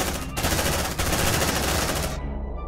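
Loud automatic gunfire from the video game Aliens: Dark Descent tears out in one sustained, dense burst that cuts off abruptly near the end.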